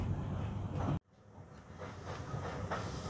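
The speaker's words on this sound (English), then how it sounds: "And this is the train journey." Riding on a train: a steady rumble and hiss of the carriage cuts out abruptly, then rises again as a softer, quieter running noise with faint rhythmic clatter.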